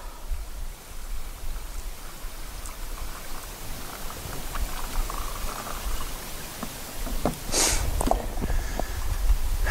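Water poured into a homemade wasp trap holding a brown sugar-like bait, a steady close trickling and splashing stream that grows slightly fuller, with a few small knocks and no talking.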